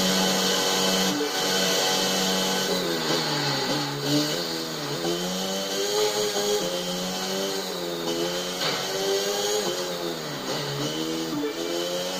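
A car engine roars in a street racing video game, holding a loud, continuous revving drone that rises and falls in pitch for the whole stretch, with no talk over it.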